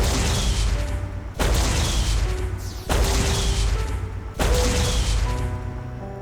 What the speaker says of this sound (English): A lightweight energy cannon that blasts an intense electrical beam that explodes.